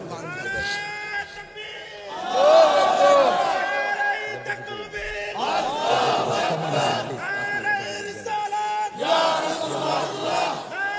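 A large crowd at a Bengali Islamic waz sermon gathering chants a religious slogan in unison, with three loud, swelling rounds of many voices shouting together, separated by brief gaps.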